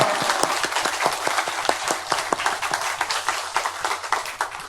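A church congregation claps in unison, a steady rhythmic beat of sharp hand claps at a brisk pace, with a faint low hum behind and no talking.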